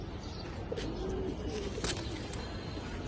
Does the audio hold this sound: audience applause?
no